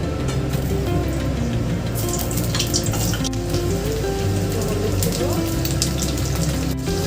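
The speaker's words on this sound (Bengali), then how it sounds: "এখন আলুগুলো আগে ভেজে নেব।" Potatoes fry in hot mustard oil in a wok, a loud, dense crackling sizzle that runs continuously, with a brief spoken remark over it.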